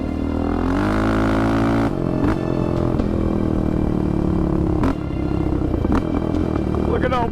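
A Yamaha Raptor 700 ATV with a blown head gasket runs loud and close, its engine droning and revving steadily throughout, with people talking over it.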